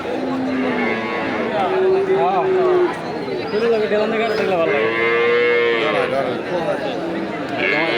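Several cattle, including Sahiwal calves, moo loudly and repeatedly at a cattle market in Nandail, Mymensingh, long drawn-out lowing calls overlapping one another, with people talking in the background of a busy outdoor scene.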